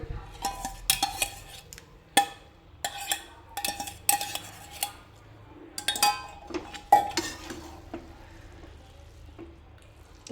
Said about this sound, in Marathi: मस्त कालून घेऊया हे सर्व एकत्र कालून घ्यायचं आहे